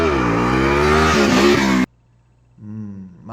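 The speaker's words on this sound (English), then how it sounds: "My hobby is riding my motorcycle." Motorcycle engine revving loudly during a ride, then cutting off abruptly into near silence before a softer engine hum returns.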